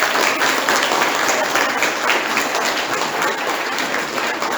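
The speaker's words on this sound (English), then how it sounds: "a massive round of applause for these incredible children" An audience of parents claps loudly and densely for children after a Year 2, 3 and 4 school summer music concert, a steady unbroken burst lasting several seconds.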